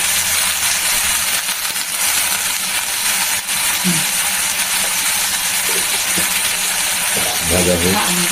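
Green chilies with a pinch of salt sizzle and crackle in a hot pan, a steady broad frying hiss running throughout, with faint kitchen clinks and a brief murmur of voices.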